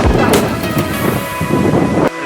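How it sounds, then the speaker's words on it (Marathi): Wind gusting across an open hilltop at Kothaligad (Peth) fort in Karjat, Raigad, a steady loud rush buffeting the microphone with a rumbling low end, briefly dropping off near the end. "पण हवा अशी सुटली की चांगला वाटतोय"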